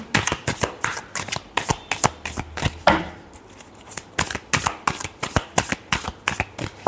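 Tarot cards shuffled rapidly in close, steady rhythmic snaps and riffles, repeated many times with one brief pause midway.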